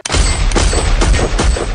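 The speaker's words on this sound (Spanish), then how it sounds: "resuenan 13 disparos" A rapid burst of gunfire from a drive-by shooting, several loud, close booming shots in quick succession over a continuous rumble, with no talking.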